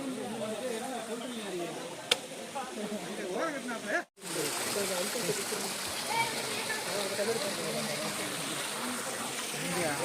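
Spring water at a mountain shrine in the Vellingiri Hills streams and splashes steadily close by, a constant rushing wash with a brief dropout midway, while people talk over it.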